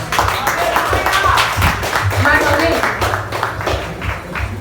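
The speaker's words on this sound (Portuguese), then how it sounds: "Você pode aplaudir a Jesus?" Church congregation clapping in an evening service in Campo Grande, Rio de Janeiro, a busy burst of applause with rhythmic claps over a low musical hum, while a voice speaks briefly on top.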